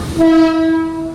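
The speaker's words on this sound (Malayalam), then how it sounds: "നമുക്ക് പോകാനുള്ള ട്രെയിൻ വരുന്നുണ്ടേ" A loud, sustained Mumbai suburban local train horn blares close by as the train arrives at a crowded station, a steady tone holding for about a second with rumbling rail noise beneath.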